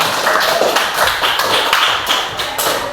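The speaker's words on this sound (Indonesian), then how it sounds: "Tepuk tangan." A classroom of students claps hands together, a short burst of quick, sharp claps from several people, close and lively.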